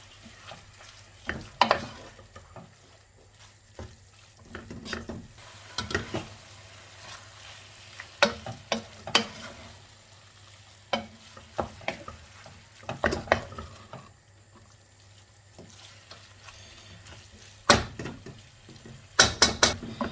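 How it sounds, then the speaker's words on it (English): Minced meat with spices and salt sizzles in a pan over the heat while a utensil scrapes and stirs it in repeated close, sharp strokes, with no talking. "add in a pinch of salt and give that a nice mix"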